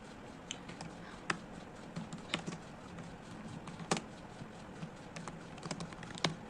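Light, irregular clicks from a computer keyboard as someone types an address into an online job application form, soft and close with short pauses between keystrokes and no talking.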